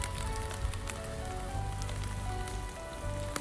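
Steady rain patters densely on a surface, a constant close hiss with scattered droplet taps and a low rumble underneath, no voices.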